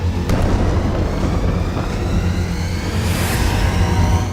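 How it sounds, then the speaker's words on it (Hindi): A deep, sustained rumble with a rolling low roar that swells slightly, like a distant explosion or blast echoing out, with no voices; a Hezbollah strike on an Israeli base. "तीसरा धमाका"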